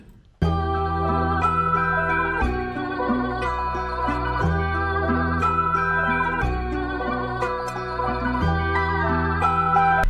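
Preloaded synth melody programmed in FL Studio: a steady, full layered tone with sustained chords under a bright repeating lead line, loud and continuous with regular chord changes about every two seconds, no talking.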